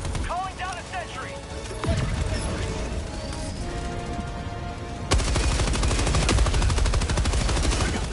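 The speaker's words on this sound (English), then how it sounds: "They're shooting from across the street." Enemy gunfire in Helldivers 2, shooting from across a street in a combat zone: rapid machine-gun bursts and heavy volleys, growing denser and louder near the end, with someone talking over parts of it.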